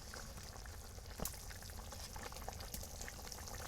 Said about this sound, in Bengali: এই যে আমার তরকারির জলটা ফুটে উঠেছে।